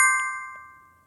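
A single bright notification bell dings once, its tone ringing clearly and fading away over about a second, alone and without voices.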